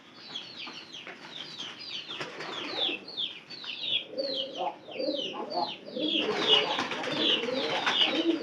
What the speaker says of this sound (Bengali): ওই যে পায়রা যাইতেছে